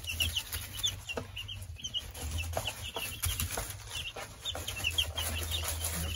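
Two-week-old chicks cheeping and clucking inside a chicken coop, a busy overlapping chorus of short calls that goes on throughout, close and moderately loud over a low steady hum, with no talk.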